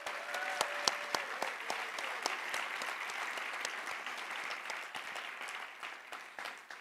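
At an MLK community celebration, an audience applauds the performers after their music: a steady, lively stretch of many hands clapping, sharp individual claps poking through, easing slightly near the end.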